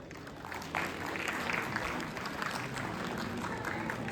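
A crowd applauds at a college tech event, a dense continuous wash of clapping that swells slightly after the first moment and holds steady to the end.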